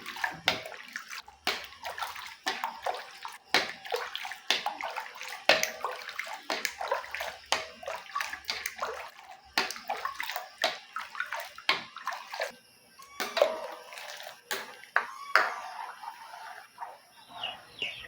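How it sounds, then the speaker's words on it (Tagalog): Coconut milk simmers in a pot for ginataang kalabasa with squash, string beans and moringa while a spoon stirs it, making wet sloshing and bubbling scrapes in an irregular rhythm, close up, with no talk. "Ituloy lang natin ang paghalo para hindi luminaw at mamuo ang ating gata."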